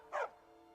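A single short dog bark in the Skyrim video game, clear and fairly near, standing alone against a quiet background hum.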